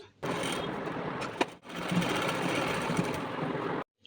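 Sewing machine running steadily while stitching salwar fabric, a continuous buzzing whir with a short pause partway before it resumes and then stops.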